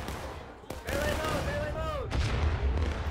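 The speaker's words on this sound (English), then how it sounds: "Oh no, they learned how to aim their cannons" Cannon fire booms across a Civil War battlefield in War of Rights at Antietam, a sharp blast followed later by another heavy report amid a whistling shell, loud battle noise and voices underneath.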